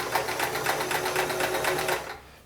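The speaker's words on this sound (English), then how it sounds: "let me run a few stitches here" A Sears Kenmore 158 series free-arm sewing machine runs a short burst of zigzag stitches on light fabric, a fast, even mechanical rattle close up for about two seconds before stopping abruptly.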